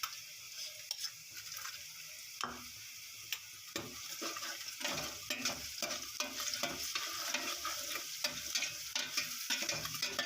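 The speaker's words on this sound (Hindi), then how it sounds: "तो ये प्याज ब्राउन हो गए हैं, तो इसमें मैं लहसुन का पेस्ट ऐड करती हूँ।" Garlic paste stirred and fried with browned onions in a pan for a black chickpea masala, a steady sizzle under repeated scraping strokes of a spoon, close and fairly loud throughout.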